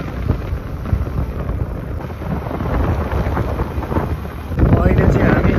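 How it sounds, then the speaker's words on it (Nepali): Wind buffeting the microphone outdoors in hilly countryside, a rough low rumble that rises and falls and grows stronger toward the end. "हावा पनि चलिरहेछ"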